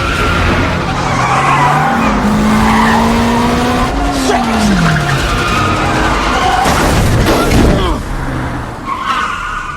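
Cars in a police chase skid with long tire squeals and roaring engines, loud and close, while voices talk over the action.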